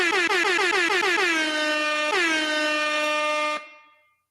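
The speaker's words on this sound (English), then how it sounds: "I'm gonna make sure somebody play the air horns." A loud air horn sounds, starting with a burst of rapid stuttering blasts that settle into one long sustained tone with a brief re-attack midway. It is close and alone, then it cuts off and rings out briefly.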